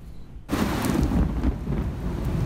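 Heavy rain pours down at the Brownsville port of entry on the Texas-Mexico border, starting abruptly as a dense, loud, steady wash with a low rumble beneath it.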